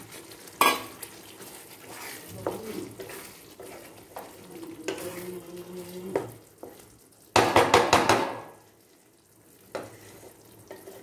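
Green peas go into frying masala in a pot and are stirred with a spoon, giving scattered scrapes and clinks over a soft sizzle. A burst of quick, loud rattling stir strokes follows near the end, then it settles.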